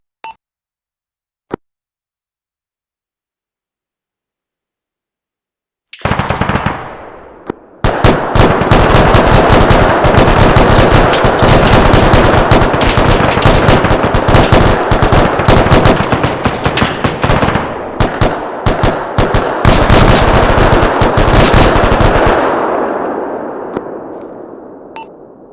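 Gunfire during a military video game squad training session: a couple of isolated sharp shots, then a long, loud, nearly continuous barrage of rapid automatic fire lasting about fifteen seconds before tapering off to scattered single shots.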